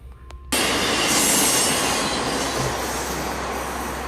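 Freight train rolling past in Riverside, California, starting abruptly with a loud broadband roar of wagons and wheels, faint squeal and clatter, continuing steadily throughout with no voices.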